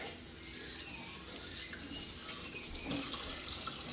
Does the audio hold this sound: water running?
yes